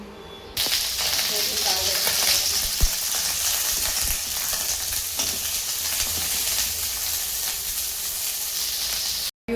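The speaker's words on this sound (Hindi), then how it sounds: "गोभी तल डरे, अब आलू लतल हूँ।" Cauliflower and potatoes sizzle steadily in hot oil in a pan, a loud, continuous crackling hiss that starts abruptly and stays close, with occasional stirring clinks.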